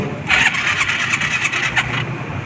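Suzuki Skydrive scooter with a carburetor problem cranking hard without catching, a close, loud churning starter-and-engine noise lasting about two seconds with faint background talk.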